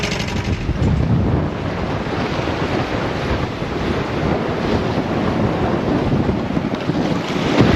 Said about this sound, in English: The wind came back with a vengeance.